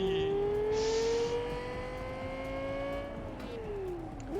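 A Bugatti Veyron engine in the video game Cyberpunk 2077 revs loud and close, its pitch climbing smoothly under acceleration, holding, then dropping as the car slows.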